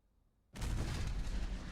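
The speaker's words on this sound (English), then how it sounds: "Explosions!" A sudden loud explosion bursts in after a brief quiet moment and rolls on as a dense, sustained roar in the video game Metal Gear Solid: The Twin Snakes.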